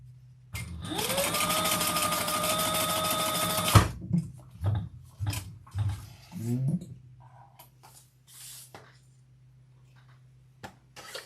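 A sewing machine runs in a steady loud whirring burst while stitching fabric, then stops and gives several short stitching pulses before quieting, over a constant low hum.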